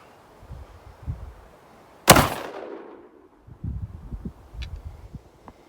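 A single suppressed gunshot cracks sharply, followed by a short decaying tail, among faint handling noises and light rustling outdoors.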